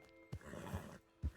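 A horse rears and neighs in Red Dead Redemption 2, a short whinny between two thuds, close and fairly quiet with no voices.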